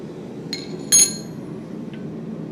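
A hammer strikes a chisel to cut a piece of metal: a couple of sharp metallic clinks, one light tap followed by a louder ringing hit, then a faint tick in a quiet room.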